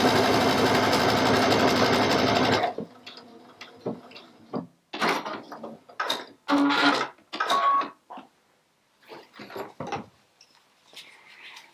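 A Baby Lock sewing machine runs steadily for a few seconds stitching through stretch material topped with cotton, then gives way to short bursts of clicks and mechanical clatter, close and alone with no talk.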